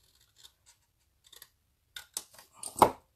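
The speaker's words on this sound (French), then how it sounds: "On coupe bien sur la ligne de pli." Scissors snip through folded paper along a crease for an Easter craft, a few faint clicks at first, then several louder close cuts in quick succession.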